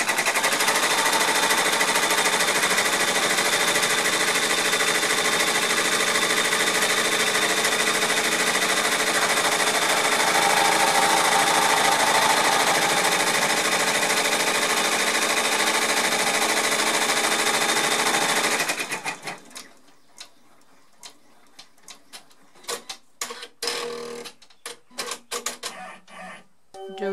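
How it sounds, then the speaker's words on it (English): Embroidery machine stitching fabric onto stabilizer for a mousepad design, a dense rapid mechanical chatter running steadily and loudly for most of the stretch, then stopping abruptly and giving way to scattered clicks and handling noises. "is sewing the material onto the stabilizer"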